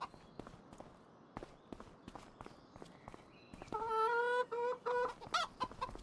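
Chickens cluck in a Farming Simulator 25 farmyard: a repeated series of short rhythmic clucks grows louder and closer in the second half, over earlier scattered soft footstep-like taps.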